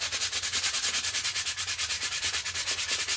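Rapid, rhythmic scratchy strokes of sandpaper rubbing plastic Nerf gun parts, a steady back-and-forth hiss close by with no voices.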